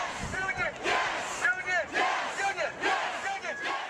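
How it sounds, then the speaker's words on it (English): Thousands of protesters packed inside the Capitol chant and shout together in loud rhythmic bursts, a dense crowd roar rising and falling every half second or so with overlapping voices and no single speaker. "Thousands of people filled the Capitol carrying signs and chanting."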